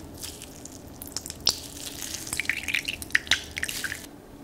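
Juice from pounded ingredients, squeezed through a cloth bag for a roast chicken dish, falls in scattered close drips and small splashes, irregular and fairly quiet, with no talk.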